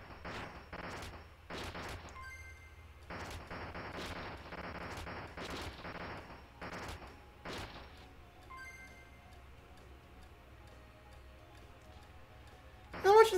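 Gunfire from the M. B. Re mobile video game on a PS Vita comes in rapid bursts of sharp, repeated shots separated by short pauses, then stops, leaving quiet game background and a louder burst at the end.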